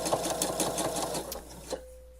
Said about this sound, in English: So I'm just going to be sewing that short bit from the front edge